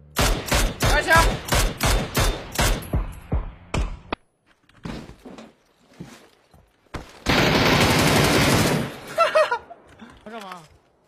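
Rapid automatic gunfire in a shooter video game, a loud burst of closely spaced shots followed by scattered single shots and a long sustained blast, with players talking in between.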